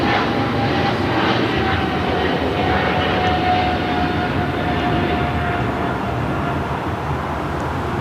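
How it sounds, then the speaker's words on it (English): An American Airlines Boeing 777-300ER bound for London Heathrow rolls down the runway at LAX, its jet engines a loud, steady roar with a thin whine running through it, continuous throughout. "we got that American 777-300ER flight heading to London Heathrow, now rolling down"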